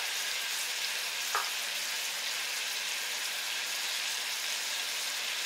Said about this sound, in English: Now we're going to put in our tomato paste, and I just want to wake it up.